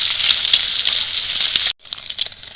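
Pata fish fries in mustard oil in a kadai, giving a loud, bright, crackling sizzle up close that cuts out for an instant, then resumes.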